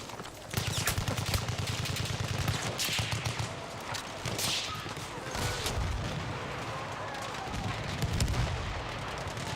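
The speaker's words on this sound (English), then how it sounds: "Little Green Monster is dropping her mortars." Mortar fire and battlefield gunfire in Battlefield 1 during a competitive esports match: repeated booming blasts mixed with steady crackling shots and dense combat noise throughout.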